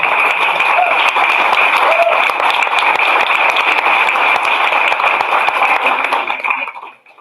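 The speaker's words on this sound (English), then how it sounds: "we can have a small applause" An audience at a science slam applauds, a dense, steady wash of clapping that fills the room for several seconds before tapering off at the end.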